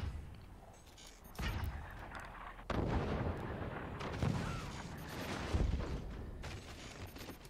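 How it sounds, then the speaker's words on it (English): Heavy mortars firing in the video game Forts, several deep booming launches spaced a second or so apart, each with a rumbling tail, loud and close without speech. "These heavy mortars are great."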